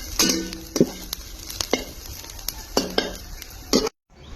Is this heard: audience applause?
no